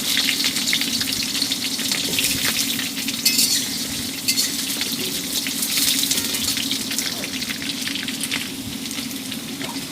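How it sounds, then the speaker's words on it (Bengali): Potatoes frying in hot oil on a wood-fired stove, a steady close sizzle with a low background hum and occasional stirring scrapes, no voices. "আলুগুলো প্রথমে ভেজে নেব লাল করে"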